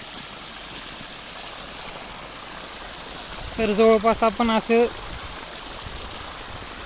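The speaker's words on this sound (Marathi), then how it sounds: "असं प्रत्येक सरीच्या समोर त्या तोटीचं पाणी त्या सरीला जाणार" Irrigation water runs from an outlet pipe into each furrow of a field, a steady flowing rush that continues under someone briefly speaking.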